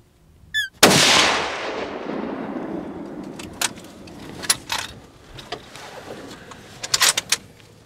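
A single loud, close hunting-rifle shot cracks out during a hunt in Czechia and rolls away in a long echoing boom, followed by faint rustles and small knocks.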